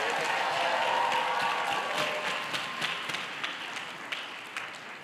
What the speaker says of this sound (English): Let's give a big clap for our alumni judges.